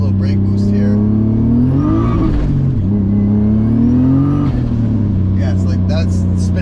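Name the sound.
560whp turbo BMW E34 engine revving during brake boost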